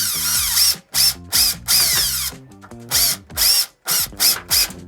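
A power drill whirs in short repeated bursts, driving screws to refit the handle on an RV roof vent lid, close and loud with brief pauses between pulls of the trigger.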